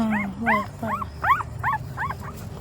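Puppies whimper and yip in a rapid series of high, wavering cries, six or seven close together, heard up close against faint background noise.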